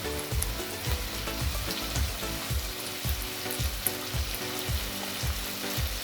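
Chopped onion, tomato and coriander sizzle in hot oil in a pan for an egg curry. There is a steady frying hiss with repeated soft thuds of stirring at a regular rhythm, and no one talks.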